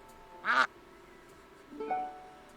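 A duck quacks twice on a radio show in the video game Lil' Guardsman, one loud nasal quack followed by a softer, lower one, each short and clear over a faint background.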